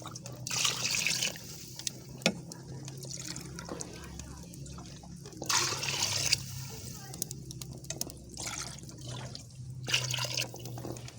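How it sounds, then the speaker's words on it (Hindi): Water trickles and drips into a cooking pot of chicken and peas, a faint intermittent pouring sound in a quiet village kitchen, with a low steady hum beneath and occasional soft talk. "अब खाला इसमें पानी ऐड कर रही हैं।"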